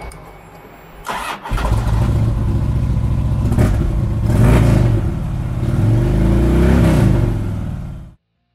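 A 2009 Harley-Davidson FLHTCU Electra Glide Ultra Classic with ABS cranks and starts, then its engine idles with a loud close rumble and a few blips of revving before cutting off abruptly.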